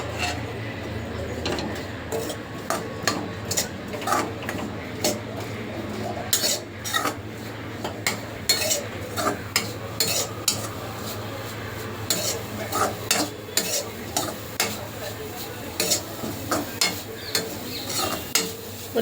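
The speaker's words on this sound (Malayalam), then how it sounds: "ചെറിയുള്ളി എന്നിവ ഇട്ട് നമുക്ക് വറുത്തെടുക്കാം." Small shallots fry in coconut oil while a spoon scrapes and clinks against the pan in irregular stirring strokes over a steady close sizzle.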